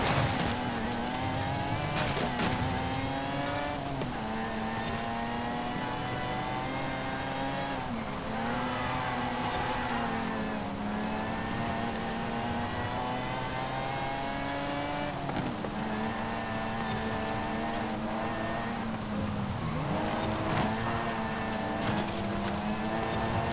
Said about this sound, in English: Probably can hear it's supercharged as well